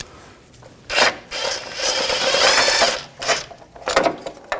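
A ratchet works a bolt loose on the belt tensioner of a 2014-2020 Nissan Rogue 2.5L four-cylinder, a close run of bursts of clicking that starts and stops several times, with no talking.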